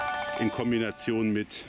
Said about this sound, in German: Sorry für das Telefon, aber ich habe es vergessen, vorzeitig auszumachen.